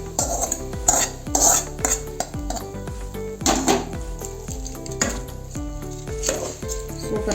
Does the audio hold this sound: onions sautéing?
yes